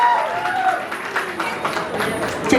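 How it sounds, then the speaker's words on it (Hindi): Guests at an Indian ring ceremony clap and cheer for a married couple, a steady, crowded roar of hands with raised voices and music blended underneath throughout. "मैं चाहूंगी हमारे प्यारे से जोड़ के एक और जोरदार ताली होनी चाहिए।"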